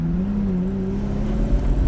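A 1960 Jaguar XK150-S with the 3.8 liter tri-carb XK engine, held in second gear at about 20 mph and 2,600 rpm, gives a steady, loud low drone with a smooth even hum and no voices.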